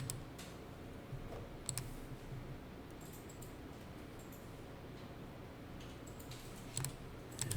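Faint computer mouse clicks while confirming and closing a screen in accounting payroll software, a few light, scattered taps over a low, quiet room hum.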